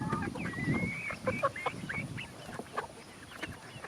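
Chickens and roosters on a family farm cluck and call in a busy overlapping flock, with rising squawks and a low murmur of birds close by.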